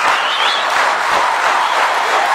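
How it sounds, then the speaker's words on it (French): An audience at a live event gives dense, continuous applause that stays loud and steady from start to finish, with faint crowd voices mixed in. "Je vous demande de vous lever de votre siège et de faire un parterre d'applaudissements"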